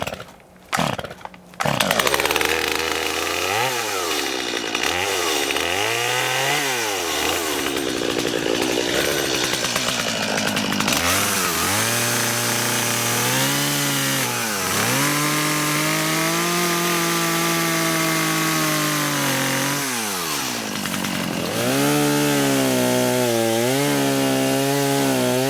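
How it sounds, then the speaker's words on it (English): A chainsaw cutting wood while clearing an overgrown fence line on a farm, loud and close, the engine revving up and down through repeated cuts over about twenty-five seconds with no talk. "pull out your chainsaw."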